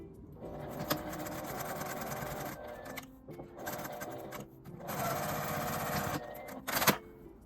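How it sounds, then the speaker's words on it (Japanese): A sewing machine runs in steady bursts while stitching the folded ends of a fabric pouch, a square box pouch with a zipper, its motor whirring and needle clattering in three long runs broken by short pauses. "両端を縫います。 もう一枚も同じように折って縫います。"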